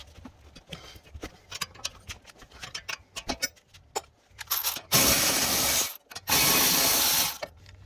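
A ratchet loosening a 17 mm brake caliper bolt on a 2017 Mazda CX-9: a run of quick clicking ratchet strokes, then two long, loud continuous buzzing bursts of rapid spinning, close up.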